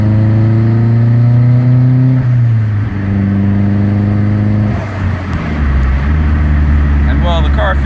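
BMW E30 with a turbocharged M42 engine pulls through the gears while driving, its loud harmonic drone climbing, dropping at shifts and rising again, with a brief pause in the middle.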